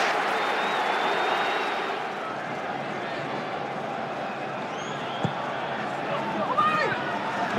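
Football crowd at a West Ham match roaring in a dense, sustained wash of noise, with cheers and whistles rising over the steady stadium din.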